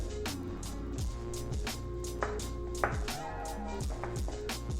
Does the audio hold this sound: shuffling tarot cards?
no